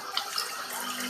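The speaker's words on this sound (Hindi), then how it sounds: "पानी हमने शामिल कर दिया।" Water is poured into a pot of chicken degi korma being cooked, a steady splashing pour running continuously for about a second with no talk over it.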